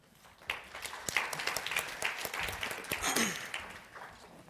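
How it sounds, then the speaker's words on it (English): Conference audience applauds the session moderator, a moderately loud burst of scattered claps that builds and holds across the room, with a few sharper individual claps and faint murmurs. "please give a round of applause to the moderator for this session"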